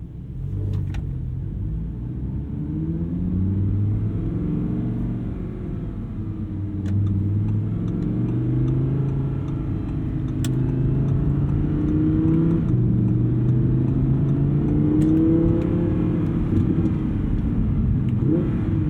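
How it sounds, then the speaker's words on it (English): A V10 car engine in dynamic drive mode with magnetic ride suspension, heard from inside as a loud continuous roar that rises and falls through repeated accelerations and gear changes, steady and close with no talking. "The V10 is a beautiful sounding engine"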